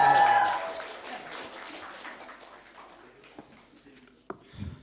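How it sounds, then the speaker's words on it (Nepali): Applause for a poet at a poetry competition, loud clapping at the start that fades away, followed by scattered soft sounds and a brief low thump near the end. "एकचोटि त्यो भाइलाई जोरदार ताली बजाउँदै थियो"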